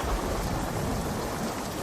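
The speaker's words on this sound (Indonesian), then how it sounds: "Malam itu, hujan sangat deras dan disertai petir." Heavy night rain pours steadily with a low thunder rumble beneath it, a dense, constant wash of sound for a horror story.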